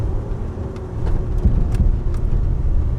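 Ford Ranger pickup accelerating hard in first gear, a loud, close, low engine roar that swells and stays steady throughout, with no talking.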